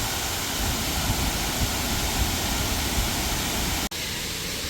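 Huai Mae Khamin waterfall in the Kanchanaburi forest roars as a loud, constant rush of falling water, steady throughout apart from one abrupt brief cut near the end.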